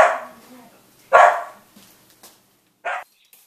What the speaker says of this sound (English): Behavior: barking in crate.